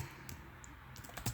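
C code being typed on a computer keyboard: a brief, quiet run of scattered key clicks with no talking.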